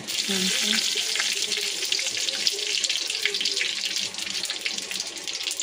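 Curry leaves, cloves, peppercorns and bay leaves frying in hot oil in a pan, giving a steady, loud hissing sizzle with small crackles that continues throughout.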